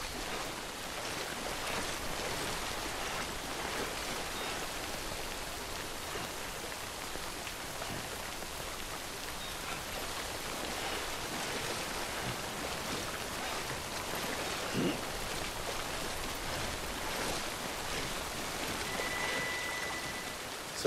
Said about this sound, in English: since it's raining already